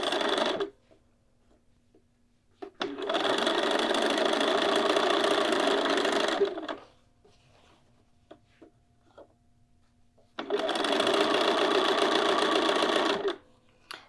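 A sewing machine stitches a garment neckline in two bursts of rapid, even mechanical whirring and clatter, each a few seconds long, separated by near-silent pauses with faint handling clicks.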